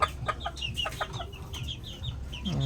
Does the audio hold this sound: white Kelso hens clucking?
yes